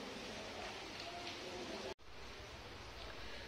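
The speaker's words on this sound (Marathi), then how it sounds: "पाऊस बाहेर मुसळधार पाऊस चाललेला आहे" Heavy monsoon rain pours steadily outdoors during a Ganesh immersion, a dense continuous wash with a brief drop in the middle.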